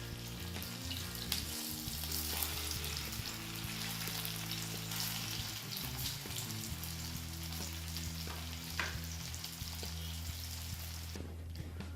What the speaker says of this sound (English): So that you can deep fry in this.